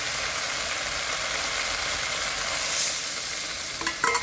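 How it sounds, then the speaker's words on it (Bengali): Baim fish and potatoes frying in spiced oil make a constant, strong hiss close by, with a few quick utensil clicks near the end and no voices. "এবার মাছগুলো দিয়ে হালকা কষায় নেব"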